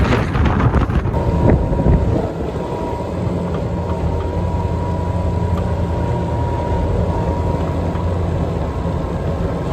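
Strong snowstorm wind buffets the microphone with heavy, rumbling gusts at first, then settles into a steady roaring bluster with a faint hum underneath.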